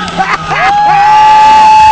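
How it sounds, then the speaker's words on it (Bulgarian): Crowd at a drift show in Sofia cheers and whoops loudly near the start, then a long, steady, shrill whistle-like tone holds over the rest of the crowd noise. "Аплодисменти!"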